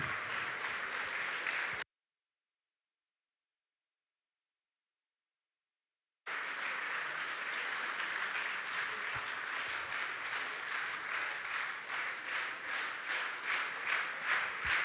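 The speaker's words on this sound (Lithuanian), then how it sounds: "Dar šiltesni aplodismentai." Audience applause at the Sėja ir Ūkininkas 2022 event: a dense, steady wash of clapping that cuts out completely for about four seconds, then returns at full strength and carries on to the end.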